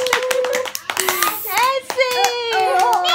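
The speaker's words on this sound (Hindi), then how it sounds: "तालियां बजाओ ना जल्दी से" Guests at a small girl's third birthday party clap their hands in bursts while adults and children talk and call out over it, close by and lively.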